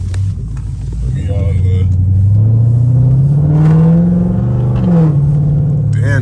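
Loud engine of a Dodge Charger SRT with its catalytic converter deleted, revving up in a rising, rumbling roar and settling back, heard up close from inside the car.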